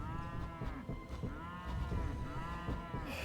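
Bleating cattle enemies in the tower-defence game Element TD 2, a near, steady run of overlapping animal calls layered over game music and sound effects.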